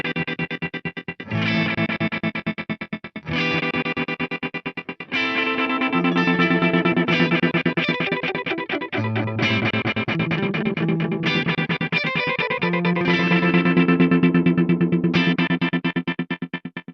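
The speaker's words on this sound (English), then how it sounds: "This almost kind of sounds like some kind of like intense multi-tap glitch delay" Mooer D7 delay pedal in rainbow mode, producing an intense multi-tap glitch delay over a sustained, distorted guitar line; dense repeating echoes stack in rhythmic bursts, loud and continuous with no talking.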